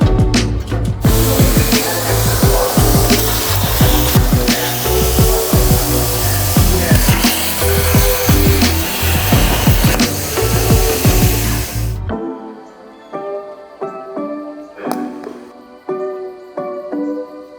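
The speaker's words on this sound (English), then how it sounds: "I'm gonna use the plasma cutter for that" A plasma cutter slices through metal for a custom Honda turbo mount, making a loud, continuous harsh hiss and crackle that runs for about twelve seconds before cutting off, leaving quieter shop clatter.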